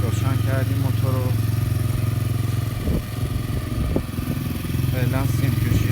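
A small motorbike engine fitted to a BMX bicycle idles steadily in the foreground, with a couple of brief clanks partway through and people talking over it.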